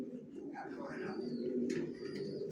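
Racing pigeons in a loft coo with low, throaty murmurs over steady background noise, with a few faint higher chirps near the end.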